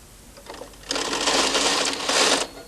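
A Brother knitting machine carriage is pushed across the needle bed in a quick mechanical run, with a brief rattling start followed by a longer whirring, clacking sweep that stops abruptly.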